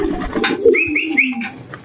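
Pigeons being fed coo close by in soft low throaty notes, with a few higher chirping calls overlapping and faint rustling behind them.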